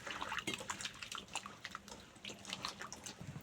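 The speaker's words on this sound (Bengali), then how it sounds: "এখন জল দিয়ে ভালো করে ধুয়ে সিদ্ধ করে" Chopped raw papaya pieces washed under running water, splashing and dripping close by with a steady liquid wash and scattered drips, no voices.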